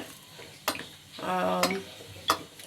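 A kadhai is set down on a stovetop with sharp metallic clanks, followed by a brief ringing scrape of metal on the burner grate, with another clank near the end; a quiet home kitchen, no talking.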